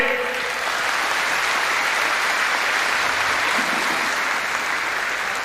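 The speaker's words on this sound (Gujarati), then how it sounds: "રાજેશભાઈ, ધર્મેશભાઈ, તમામને સૌ પ્રથમ તો આપણે જોરદાર તાળીઓથી વધાવીએ." A seated audience at a stage event for a swami's talk claps loudly in a dense, sustained round of applause that stays even throughout without pause.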